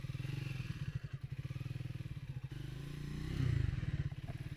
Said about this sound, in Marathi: मोटरसायकलला आम्ही चिखलात घातले ऑफ रोड करायला